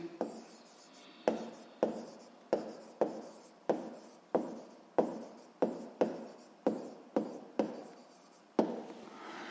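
Chalk or marker writing on a board in a physics lesson, a run of crisp, evenly spaced taps and short strokes at close range, with no talk over it.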